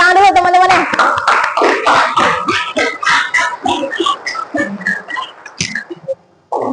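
Classmates in a junior high school classroom clap in a loose, scattered burst that thins into separate claps, with a whistle and some talking mixed in.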